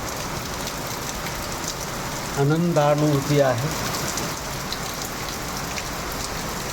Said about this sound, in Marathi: हे असे पडत असलेले पाण्याचे थेंब पाहून मनाला प्रसन्नता वाटणं स्वाभाविक आहे